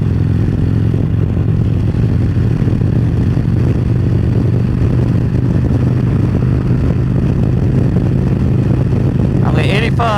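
A motorcycle with a 6-inch windshield cruising in sixth gear on the highway near 85 mph, with a steady loud engine hum and wind rush throughout and a brief fluttery burst near the end.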